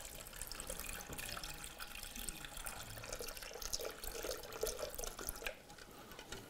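Ice-cold tap water runs steadily into a sink over boiled eggs, a continuous splashing stream with light dripping, close and soft, with no speech.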